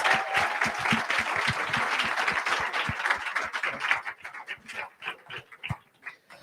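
Audience applause at a youth pitch competition, starting full and dense, then thinning into scattered individual claps as it tapers off near the end.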